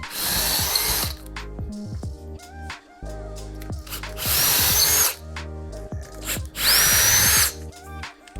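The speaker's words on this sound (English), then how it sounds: "for this I need to pre-drill." A power drill pre-drilling a wall for wall plugs whines in several loud bursts, rising and cutting off with pauses between, boring into a hard surface up close.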